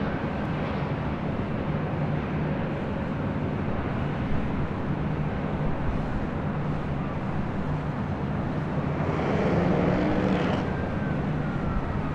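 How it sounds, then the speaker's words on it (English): A Delta Airbus A321neo departs from LAX, its jet engines a steady broadband roar that holds loud and constant throughout, with a slight swell near the end and no voices. "Speaking of Delta A321neos, that is the next departure here on the north side, heading to Kailua Kona."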